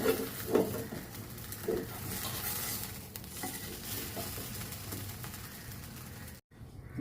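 Uttapam with gongura chutney frying on a pan gives a steady soft sizzle with a few brief louder crackles and scrapes near the start, continuing evenly until a short break near the end.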